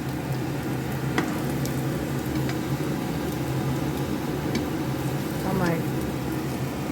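Ridge gourd slices fry in a pan with a steady, continuous sizzle throughout, close and moderately loud, with a few faint clinks and a brief rising whine near the end.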